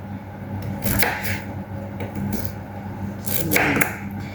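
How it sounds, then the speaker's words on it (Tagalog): A knife cuts a firm white sweet potato on a cutting board in a few distinct close chops over a steady background hum, heard alone. "Pagkatapos natin hiwain ng ganito yung ating kamuti, hiwain naman natin siya ng pahaba muna, tapos ganito kaliliit."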